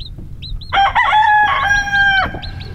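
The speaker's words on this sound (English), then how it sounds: "Your mama clucking to her." A mother hen clucks to a newly hatched chick, her drawn-out, warbling calls close and loud, with high faint peeps from the chick in between.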